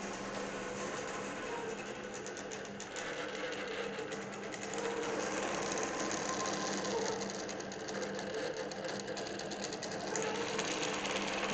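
A computerized longarm quilting machine runs an edge-to-edge pattern, its needle stitching in a steady, rapid mechanical rhythm over a constant motor hum. The sound is close and even throughout, with no voices.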